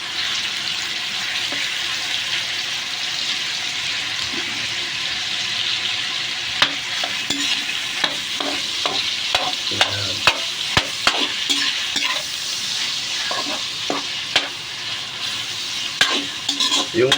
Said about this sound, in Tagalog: Gisa-gisa lang po natin yan.